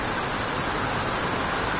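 Heavy rain falls outside in a dense, uniform hiss, steady and fairly loud with no break or other sound over it.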